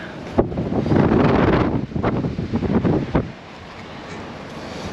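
Strong wind buffets the microphone on a fishing pier at Town Quay, Southampton, a loud continuous roar with gusty surges that drops to a lower rumble near the end.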